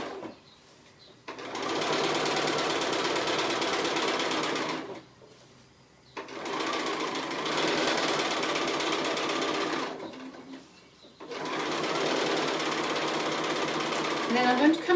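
Domestic sewing machine stitching around an applique piece, three sustained loud runs of rapid steady whirring separated by short quiet pauses.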